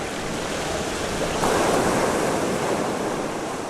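Steady, broad wash of surf and wind on a rocky coast, loud and continuous, with a slight swell in the middle as a wave breaks.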